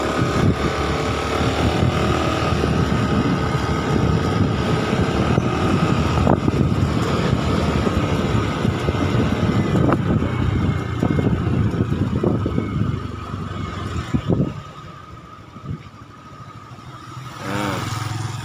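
A motorcycle engine idles and runs steadily during a diagnostic test of an oxygen sensor fault code, a continuous rough mechanical drone with some wind buffeting, dropping quieter near the end before picking up again briefly.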